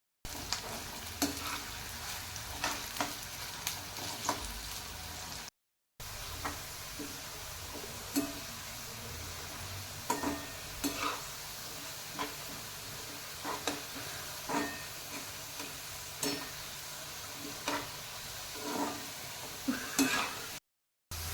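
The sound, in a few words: onions frying and being stirred until golden brown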